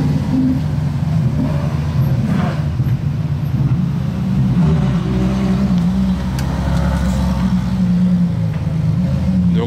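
Several Ferraris being manoeuvred around inside a workshop, with deep engine rumbles and low revving swelling and fading as the cars shuffle about, echoing off the walls, with brief voices in the background.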